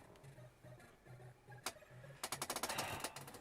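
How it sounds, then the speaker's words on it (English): Fireworks burst in a retro video game's end-of-level display, a run of sharp crackling pops arriving in a quick cluster after a single earlier bang, over a faint repeating tone. "We get a nice little firework display at the end."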